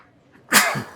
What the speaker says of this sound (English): Oh, I've got a sneeze now.